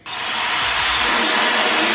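A TYMO AIRHYPE LITE blow dryer switches on and runs with a steady, loud, close whoosh of air after a quick start-up, continuing alone without talk.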